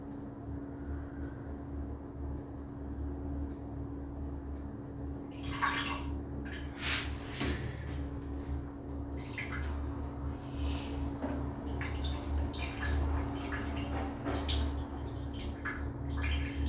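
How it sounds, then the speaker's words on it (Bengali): Small artificial waterfall in a Singapore rainforest exhibit, water flowing and splashing steadily under a constant low mechanical hum, with intermittent louder bursts and drips. "এই যে এরকম করে মাঝে মাঝে একটু ঝর্ণার জল রয়েছে"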